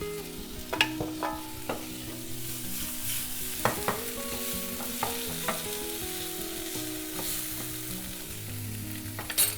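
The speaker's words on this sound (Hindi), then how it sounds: "बस प्याज ट्रांसलूसेंट हो गया, अब डाल दूंगी टमाटर" Onions and tomatoes frying together in a pan, a steady sizzle with repeated sharp clinks and scrapes of a spoon stirring, close and continuous with no voices.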